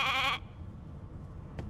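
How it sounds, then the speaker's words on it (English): Sheep bleating in the video game Divinity Original Sin 2: one short, loud, wavering bleat at the start, then quiet game ambience with a faint click near the end. "Hey, a sheep!"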